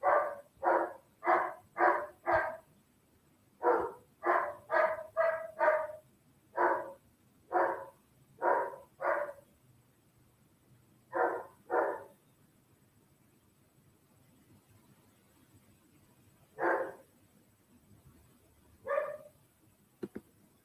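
A dog barks in a series of sharp, close barks, in quick bursts of two to five, with pauses and a few isolated barks near the end, loud and clear against a quiet room.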